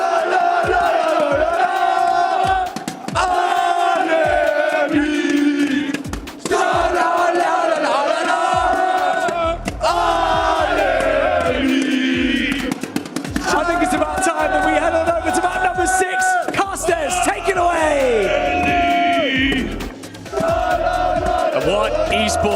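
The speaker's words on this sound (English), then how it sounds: "A family of Frenchmen heading on out here to Riyadh to cheer their team on" French esports fans at a Call of Duty Warzone tournament in Riyadh chant and cheer loudly in a packed arena crowd, a sustained roar of voices with rhythmic singing and shouts rising and falling for over twenty seconds.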